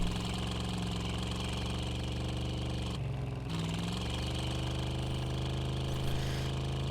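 Steady, loud drone of a powerful vehicle engine idling close by, with a constant knocking throb and a brief dip in pitch midway before resuming unchanged.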